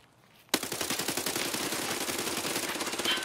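Sustained automatic fire in Escape From Tarkov bursts in abruptly after a brief quiet lead-in, a rapid, dense rattle of shots that keeps going loud and steady to the end, with no talk over it.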